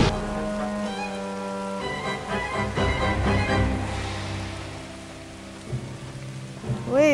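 Steady rain falls in the mobile and PC horror game BestLuck, a constant wash of droplets with low rumbling underneath and a tonal game sound rising near the end.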